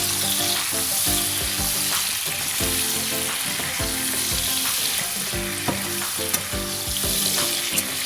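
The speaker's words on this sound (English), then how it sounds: "I'll give it a stir." Egg and spinach noodles stir-fried in a hot pan, a constant loud sizzle broken by repeated scraping and clanking strokes of a utensil against the pan in an uneven stirring rhythm.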